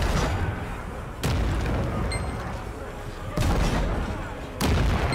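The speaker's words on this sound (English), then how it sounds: "Use the cannon on the right and defend the battlements!" Cannon fire during a battlements defense in the video game Lost Ark, three loud booming shots spaced a second or two apart over a dense rumbling battle bed.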